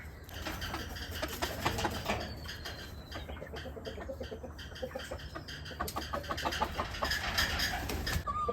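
Hens clucking and murmuring close by in a busy group, with scattered sharp calls and rustling over a low background hum.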